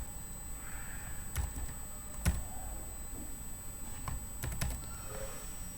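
Password being typed on a computer keyboard while configuring a router's VTY lines: a few sparse, separate key clicks over a quiet background hum, fairly close and isolated.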